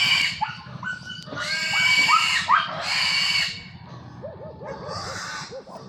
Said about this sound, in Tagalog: Kapakain sila ng mga baboy nila yung alaga.